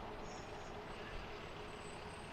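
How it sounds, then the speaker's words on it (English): At Harrisburg airport at night, a fuel truck rolls in with a steady low engine rumble and a faint high hiss, constant in level and moderately distant, no voices. "Fuel truck just came back."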